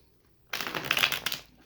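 Tarot cards shuffled by hand, a quick burst of papery riffling and sliding that starts abruptly after a short silence and fades out about a second later, close and fairly loud.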